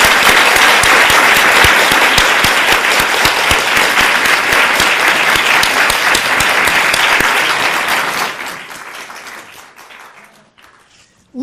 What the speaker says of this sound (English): might we stop for a moment and wildly applaud